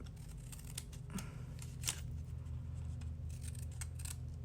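Scissors snip through the mitered corner edges of a fabric-covered box, giving a few crisp close cuts over a steady low hum.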